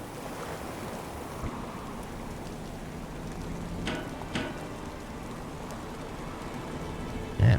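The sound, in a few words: rain in the video game Stormworks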